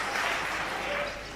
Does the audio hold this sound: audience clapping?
yes